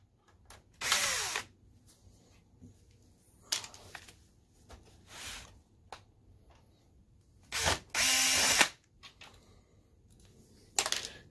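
A power drill or driver backs screws out of an Optoma HD143X DLP projector, coming in short whirring bursts of about a second each, close and separated by quiet handling pauses.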